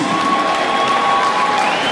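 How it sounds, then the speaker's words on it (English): A pro boxing crowd cheers and applauds the two fighters after four rounds, a dense, steady roar of voices and clapping filling the hall at close range throughout. "Once again, ladies and gentlemen, can both these fighters in a round of applause, please."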